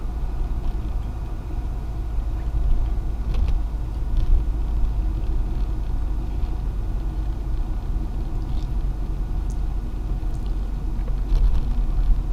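Slow, near-stationary traffic on the Oxford ring road on a Sunday afternoon, a continuous low engine rumble and tyre drone heard from inside a moving car, steady and moderately quiet with no talk.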